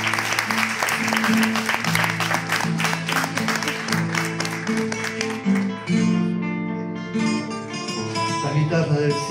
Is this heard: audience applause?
yes